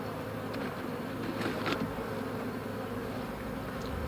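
Many honey bees buzz at a hive in a dense, continuous hum, close and steady throughout, with no voices.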